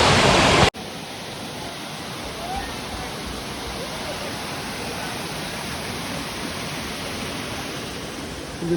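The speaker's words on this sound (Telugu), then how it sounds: "గ్రీన్ వాటర్ ఫాల్స్ అనమాట ఇది." A waterfall among green forest in Coorg, a loud, steady roar of falling water heard close up, broad and unbroken after a brief louder burst at the start.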